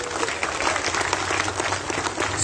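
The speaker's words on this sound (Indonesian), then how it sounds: "Tepuk tangan buat Anda semua." Dense, steady applause from an audience of artists at an Indonesian arts venue, a continuous loud wash of clapping filling the room for the whole moment.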